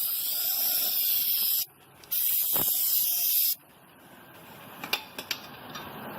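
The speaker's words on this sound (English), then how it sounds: "Gotta use a brake cleaner to clean the frame" Brake cleaner sprays in steady pressurized hissing bursts onto the brake rotors of a 2015 Nissan Murano during a brake and rotor change, two long close blasts split by a short pause, then quiet clinks and taps.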